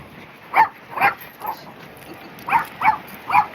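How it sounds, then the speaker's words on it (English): A rowdy dog barks six times in two clusters, sharp, mid-distance and moderately loud, with short pauses between the barks; no talking. "my dog is very rowdy."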